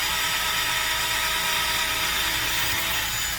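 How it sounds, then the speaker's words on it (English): A power drill bores all the way through a wooden stick while building a homemade bow-making jig, giving a loud, steady whirring grind close up that runs the whole time and cuts off abruptly at the end. "Here goes my first drill."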